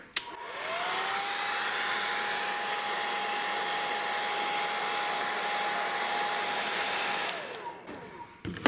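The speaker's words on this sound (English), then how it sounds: "This is a hair dryer." A hair dryer whirs steadily with a rushing airflow and a constant motor whine, spinning up at the start and winding down near the end.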